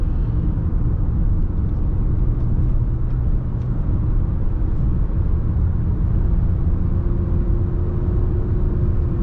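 Lexus RX350L V6 engine while driving, a smooth steady low rumble with road noise, continuous and even throughout with no voices.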